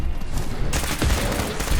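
A loud burst of automatic gunfire in Fallout 4 starts partway through over a busy, noisy combat background, with rapid shots running to the end.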